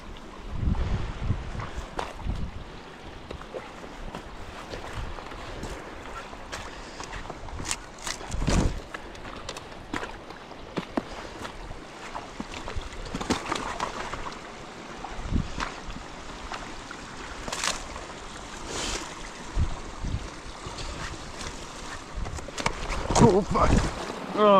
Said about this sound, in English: I'm fairly positive you can hear the water speed up after I've been on it